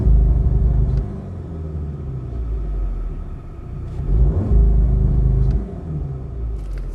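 Engine of an Audi A1 40 TFSI held at a low rumble before a launch-control start, with a brief rise in revs midway, steady and close from inside the car.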